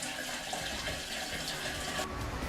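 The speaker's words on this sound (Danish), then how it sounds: "Og det her er havvand au naturel, pumpet direkte op fra bølgen blå." Seawater pumped aboard a cruise ship pours steadily from a tap in a sustained, close hiss of running water that stays loud and even from start to finish.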